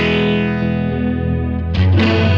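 Grungy, distorted electric guitar tone from an early Helix amp-simulation patch, a sustained chord ringing with effects, then a louder new strum near the end, heard alone with no talking.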